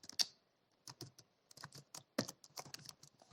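A computer keyboard clacks close by in short, irregular bursts of keystrokes with brief pauses between them, with no talk.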